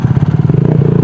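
A motorcycle engine throbs loud and close with a steady, rapid pulsing drone and no voices over it.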